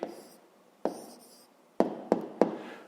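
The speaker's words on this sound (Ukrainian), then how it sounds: "Записуємо відповідь." Pen writing down an answer to a fifth-grade maths exercise, a short scratchy stroke followed by several sharp taps and quick strokes on paper, close and quiet with no talk.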